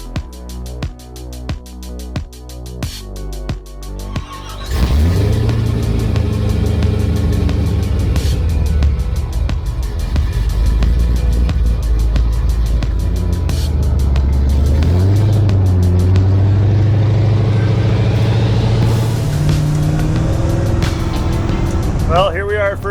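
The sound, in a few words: 1955 Chevrolet with 1,000 horsepower engine driving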